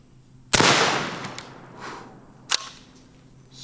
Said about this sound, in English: try the air gun